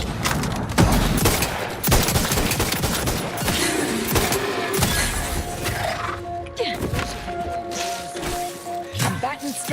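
Dense, sustained gunfire in the Outer Worlds 2 video game, a clattering mix of rapid shots and impacts running through the whole stretch, with a voice speaking over parts of it.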